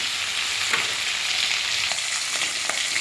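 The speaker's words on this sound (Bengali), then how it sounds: "মাছগুলোকে কড়াতে দিয়ে একটু এরকম করে ভেজে নেব" Magur catfish frying in oil in a wok, a steady close hiss with scattered spits and pops throughout, no voices.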